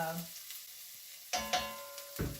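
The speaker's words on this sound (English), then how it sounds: "I'm going to test it by throwing in one tiny little piece of garlic" A tiny piece of garlic dropped into hot oil for curry sizzles in short bursts, a quick crackle and then a couple more crisp spurts against a quiet kitchen.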